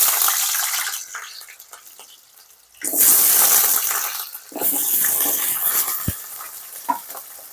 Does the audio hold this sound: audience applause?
no